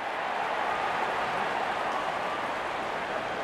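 Crowd applause and cheering in a T20 cricket video game as the openers walk out, a steady dense wash of clapping and crowd noise with no break.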